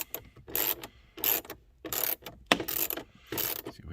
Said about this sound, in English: Nope, I'm going to have to use a ratchet. So I grab my giant torque wrench.